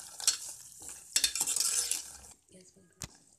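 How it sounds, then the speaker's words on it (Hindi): Makhana (fox nuts) frying in ghee, faint soft sizzling broken by clattering stirs of a utensil against the pan, with short quiet gaps between bursts. "घी को गर्म कर लेंगे और इसमें मखानों को तलेंगे।"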